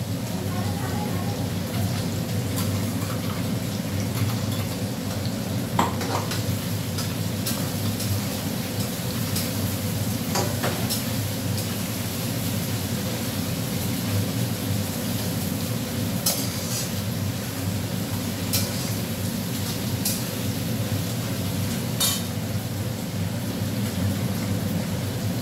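Heavy rain pours steadily in a Bengali home kitchen while cabbage is being cooked, a dense constant wash with faint scattered drips and a voice talking softly underneath.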